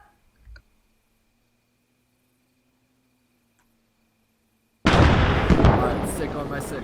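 Loud explosion from a set charge in the Arma 3 military shooter, bursting suddenly after a long near-silent stretch and rumbling on as it slowly decays.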